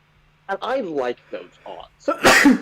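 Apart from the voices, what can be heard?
sneeze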